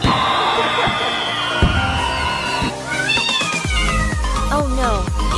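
Several cat meows, one long drawn-out call and then a run of shorter rising cries, loud and close over a continuous noisy background with a faint crowd-like murmur, in a kitten-and-cat basketball game scene.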